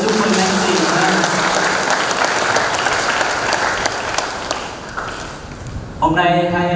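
Wedding congregation in a church applauds the newly married couple, a dense, steady round of clapping from a full crowd that fades near the end before voices or music pick up.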